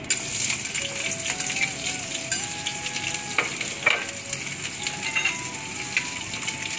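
Mustard seeds and shallots sizzle and crackle steadily in hot oil for potato varuval, a dense frying hiss with faint stirring clinks and a soft whistling tone, no talking.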